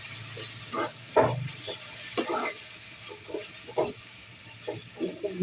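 Food being sautéed in a pan in a home kitchen: repeated scraping stirring strokes in an uneven rhythm over a soft sizzle, fairly close.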